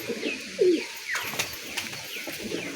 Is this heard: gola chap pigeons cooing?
yes